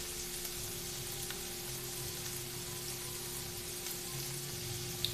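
Vegetables stir-frying in oil on a home stove, a dense and even sizzle with scattered pops of splattering oil, steady and close throughout.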